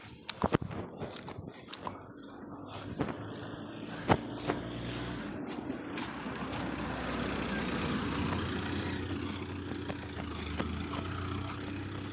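A vehicle approaching on a village road on a hot day, its engine growing into a steady rumble with clicks and knocks at the start, heard nearby and fairly quiet.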